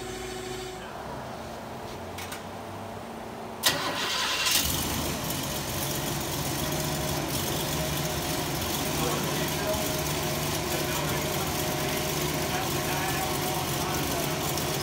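A motorized transmission tester runs on a dyno with custom headers, starting with a sharp burst and then holding a steady, loud mechanical drone and whine that runs on without a break.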